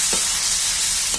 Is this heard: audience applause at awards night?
no